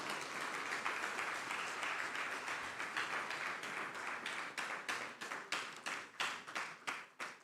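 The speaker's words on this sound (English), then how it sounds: "The applause is for a level 7 officer." Audience applause at a government closing ceremony on national development, steady clapping from a crowd that builds and then breaks into distinct, fading claps toward the end, with no talking over it.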